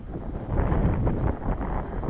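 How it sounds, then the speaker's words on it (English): Steady blustery wind buffets the microphone outdoors during an RC thermal glider flight, a continuous low roar with slow swells and no voices. "Let's push forward into the wind. It's getting blown back, so I'm having to walk backwards almost. It's got a bit blustery again."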